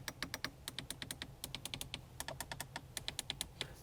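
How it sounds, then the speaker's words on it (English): Crisp tactile buttons on the HVAC controls of a 2024 Mercedes-Benz GLS 580, clicked in a rapid irregular series of about thirty sharp close-up presses, with no talking. "So when you hit these buttons, they actually make a clicking sound."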